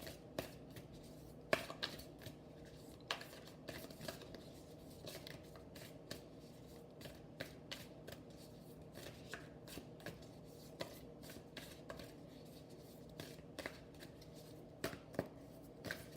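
An oracle card deck is shuffled by hand in quiet, repeated soft riffling and flicking bursts, close and fairly faint, with no talk.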